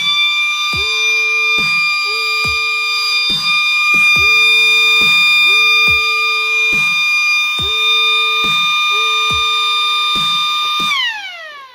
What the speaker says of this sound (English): So that's the siren test.